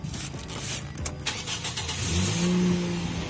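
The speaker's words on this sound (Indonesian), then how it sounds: "supaya teman-teman bisa mendengar suara mesinnya seperti apa." A 2013 Toyota Vios petrol engine cranks and catches, then settles into a steady idle with a slight rise in revs, heard up close under an open hood with no talking.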